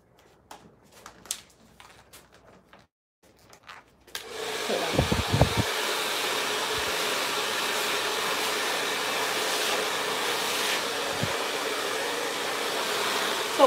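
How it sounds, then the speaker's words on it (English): After a few quiet seconds of faint handling, a hair blow dryer switches on and roars steadily and close while hair is dried with a paddle brush, a few brief knocks underneath. "So while I blow dry,"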